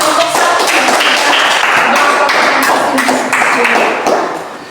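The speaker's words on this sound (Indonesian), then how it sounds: "Tepuk tangan untuk kelompok 1." Classmates applaud a student group in a classroom: dense, steady clapping from many hands fills nearly five seconds and fades slightly at the end.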